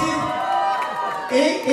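Guests at a baby boy's first birthday celebration in Haryana clap, cheer and hoot in a lively burst of crowd noise that swells toward the end, with voices mixed in.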